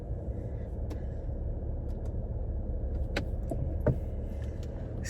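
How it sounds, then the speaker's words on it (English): A car idles while parked in a Walmart parking lot on a hot day, giving a steady low rumble, with a few faint clicks and ticks on top. "I'm going to park right here, and I'm going to have the car running because it's so hot"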